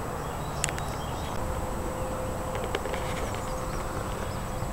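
Wasps buzz steadily outdoors, a continuous close insect drone running throughout with a few faint higher chirps and clicks over it.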